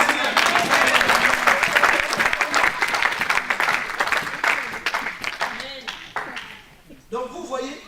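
Church congregation clapping and applauding during a sermon, a dense sustained burst of many hands that gradually thins and tapers off, with voices mixed in the crowd noise.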